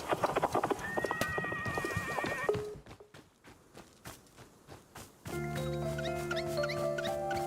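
Horse whinny and clip-clopping hooves play over a radio station in the video game Wanderstop, mixed with musical tones, followed by a quieter stretch and then steady melodic music.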